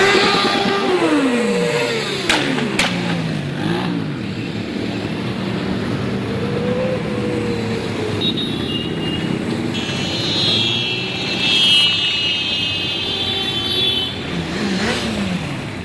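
A column of motorcycles in a bike rally rolls past on a road, engines droning steadily and rising and falling as bikes go by, close and loud throughout with no talk.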